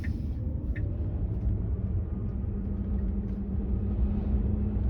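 Strong wind buffeting a car while driving, a steady low rumble and road roar with gusty pressure swells throughout, continuous and fairly loud inside the cabin, no speech.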